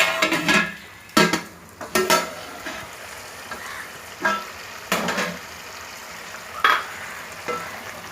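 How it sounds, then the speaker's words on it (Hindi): Onions half-browned and frying in a pan for a Murgh Mussallam gravy, heard as a steady low sizzle with repeated sharp clanks and scrapes from stirring at irregular intervals, close and fairly loud, with no talking. "भून रहा है, प्याज आधा जल चुका है"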